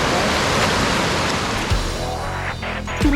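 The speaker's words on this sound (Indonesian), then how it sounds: "Curug Lewi Letak termasuk jenis block waterfall." Curug Lewi Letak, a block waterfall in Pangandaran, pours in a loud, steady broadband rush, close and continuous, with faint voices briefly audible near the end.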